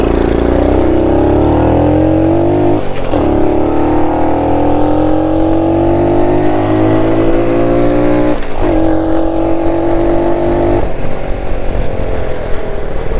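A 1969 Honda Trail CT90 motorcycle runs at full throttle down a straightaway in third gear, its loud, close engine whine climbing steadily in pitch, with two brief dips where the revs drop and rise again.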